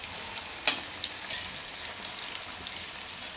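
Semolina cutlets shallow frying, half submerged in hot oil, with a steady close sizzle and a few small pops and crackles.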